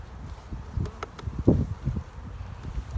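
Honey bees buzzing around an open hive during a beginner beekeeping session, a low insect drone with brief louder swells as individual bees pass close to the microphone, plus faint rustling and handling noise.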